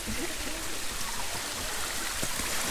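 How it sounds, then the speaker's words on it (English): A small creek at a hiking-trail crossing in the Mountain Bridge Wilderness near Oil Camp Creek, flowing with a steady, close, broadband rushing and gurgling and no breaks. "Little creek crossing."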